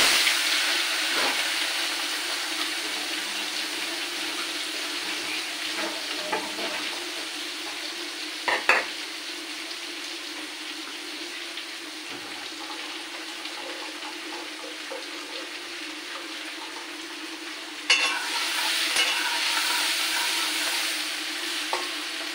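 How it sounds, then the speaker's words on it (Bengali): Shrimp fry in hot oil in a pan, a steady broadband sizzle running throughout with occasional clinks of a utensil and a brief surge near the end. "মাছগুলোকে ভালো করে ভেজে নিচ্ছি।"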